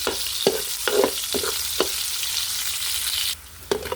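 Garlic and onion sautéing in a pan for pakbet, a steady hiss of frying broken by sharp clacks of a utensil stirring against the pan at a slow irregular rhythm, before the sizzle drops off abruptly near the end.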